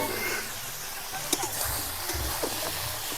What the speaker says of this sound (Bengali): মাছ ভাজার তেলে এবার ফুলকপি আলুগুলো ভেজে নেব।